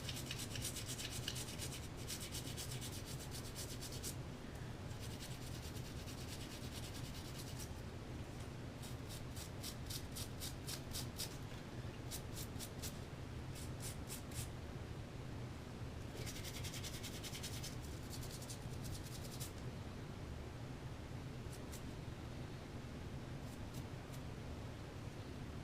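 Brush scrubbing AR15 rifle parts during cleaning, soft continuous rubbing with bursts of quicker raspy strokes, close but quiet, no talk.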